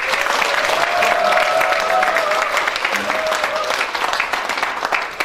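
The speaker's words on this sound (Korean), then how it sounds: "임채용 회장님께 큰 박수 보내주시기 바랍니다" An audience gives sustained applause for an association chairman at a forum event, dense clapping that holds steady for several seconds and thins slightly toward the end, with a voice audible over it.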